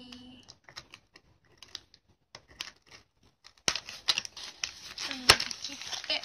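Scissors cutting open the plastic packaging of a toy set, a run of soft clicks and rustles that gives way to sharper snips and crinkling plastic near the end, close and fairly quiet.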